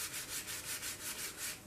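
Balsa wood parts stacked two pieces thick are sanded by hand in steady back-and-forth strokes, a soft, even rhythmic rasp of about eight passes, close and fairly quiet with no talking.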